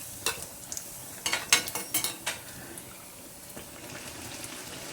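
Masala toast frying in hot oil in a pan, with soft sizzling and a cluster of scraping, clattering touches as the slices are flipped, fairly quiet throughout.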